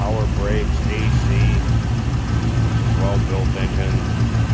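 A 1963 Chevrolet Impala two-door hardtop with a 383 stroker V8, ceramic-coated headers and a serpentine belt system, runs with a steady low rumble close by while someone talks over it throughout.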